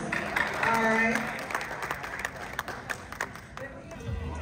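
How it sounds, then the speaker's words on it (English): Clapping from a crowd at a multicultural festival in Ohio rises alongside voices and a brief musical tone, then thins into scattered individual claps before fading. "Everybody should just give that dress a round of applause."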